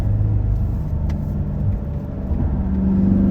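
A C7 Corvette Z51 pulls uphill in fourth gear on a mountain parkway, its engine a steady, close, low rumble that holds level throughout with a slight rise near the end.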